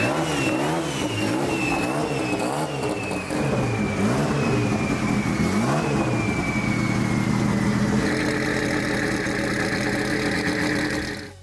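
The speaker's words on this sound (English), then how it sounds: "treat for us was seeing and hearing Sakamoto start up the 3 drag cars and move them outside for us to feature." Three old street drag Nissan GT-R cars fire up and rev in a garage, the engines rising and falling in pitch with loud, rough, continuous mechanical roar close by.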